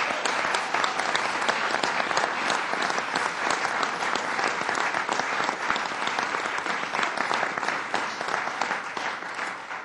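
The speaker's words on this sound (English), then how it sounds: "let's give the legislative leaders a round of applause" A crowd gives a sustained round of applause for New York state legislative leaders, dense clapping that holds steady for about ten seconds and tapers slightly at the end.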